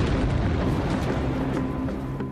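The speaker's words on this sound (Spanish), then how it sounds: "Aquí realizamos varias explosiones al día." A dynamite blast in a granite quarry rolls out and slowly decays, a heavy low boom fading over a couple of seconds.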